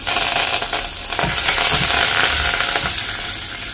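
Curry leaves crackle and sizzle in hot oil with asafoetida and dried red chillies for a one-pot vatha kuzhambu, a loud, steady frying hiss with a few sharper pops and no talking.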